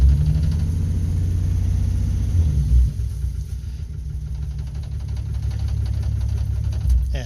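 A car engine idles with a steady, deep, close rumble and a slight vibration throughout, its low drone holding even from start to finish.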